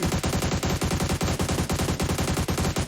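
Rapid, continuous automatic gunfire from a video game, a steady stream of loud bursts with no pauses or talking.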